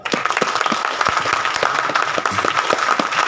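Audience applause at a motivational speaking event, steady dense clapping from a large crowd that fills the room without a break.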